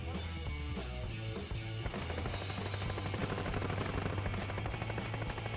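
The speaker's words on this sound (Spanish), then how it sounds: "Están por aquí, porque escucho tiros." Rapid machine-gun fire in Call of Duty: Warzone rattles in dense continuous bursts, loud and sustained, with a low steady hum beneath.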